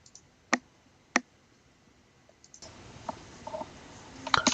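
Two sharp, isolated computer mouse clicks near the start, then a few quieter clicks and taps over a faint steady room hiss, with no talking.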